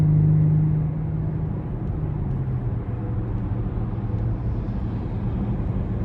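A 2023 BMW X6 xDrive40i M Sport with its 3.0-litre turbo six in sport mode, heard from inside the cabin as a steady low engine rumble with a brief pitch drop as it downshifts, no talk.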